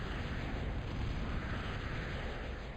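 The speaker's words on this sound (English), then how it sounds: "We'll go ahead and slow down so we can go ahead and watch this bombing run" A bomber's bombing run in the strategy game Gods of War: a dense, continuous roar of rumbling explosions, loud and unbroken throughout.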